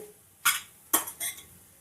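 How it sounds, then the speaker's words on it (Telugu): Chicken pieces stir-fry in a pan as a spatula scrapes and knocks against the metal three times in quick succession, close and distinct. "ఇప్పుడు చికెన్ వేసేసుకుందాము. ఇలా పచ్చి వాసన పోయేంత వరకు ఒక 2 నిమిషాలు వేపుకోవాలండి."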